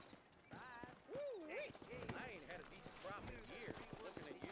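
Horse hooves clip-clop in the Western video game Red Dead Redemption, a light irregular beat of several animals beneath an ongoing conversation between game characters.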